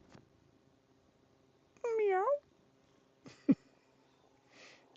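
A pet cat gives one clear, drawn-out meow up close, followed by a short chirp and a faint rustle in an otherwise quiet indoor room.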